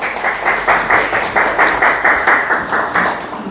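Steady applause from a seminar audience welcoming a speaker to a talk on stock investing, a dense wash of many hands clapping at a fairly close, even level for the whole stretch.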